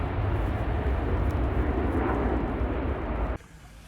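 Aircraft roar overhead at a campsite on a campervan trip around Anglesey and Conwy in North Wales, a loud, steady broadband engine rumble that holds for over three seconds, then cuts sharply to quiet.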